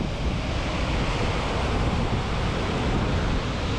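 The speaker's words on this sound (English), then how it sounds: "It's mind blowing, the power in the waves ripping in." Powerful North Sea waves crash and churn against a rocky Scottish shoreline, a loud, continuous broadband roar with heavy wind buffeting the microphone throughout.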